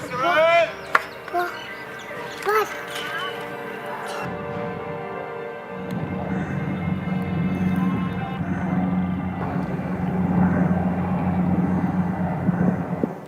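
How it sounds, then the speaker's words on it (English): A helicopter passes overhead with a low, steady rotor rumble that swells over several seconds, mixed with street noise and voices talking nearby. "This is police helicopters or military?"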